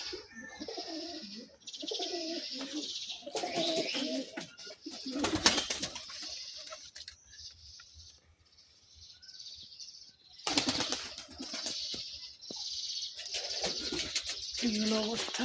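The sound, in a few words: pigeons cooing in a pigeon loft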